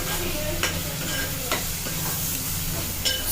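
Onions are stirred in a hot frying pan for gongura chicken, a close, steady sizzle with periodic scraping strokes of a spatula roughly every second, no one speaking.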